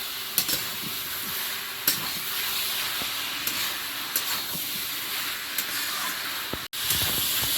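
Taro sautéed with spices in a pan gives a steady close sizzle and hiss, broken by occasional spoon scrapes and stirring knocks, with a brief cut near the end and no talk.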